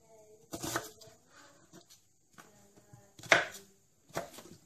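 An onion is chopped roughly on a cutting board, giving a few scattered sharp knife knocks separated by quiet pauses, close and crisp, with no talk.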